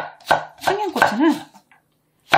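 A few sharp knife chops through Cheongyang chili peppers on a cutting board, spaced unevenly, close and loud, with a short pause before a final chop.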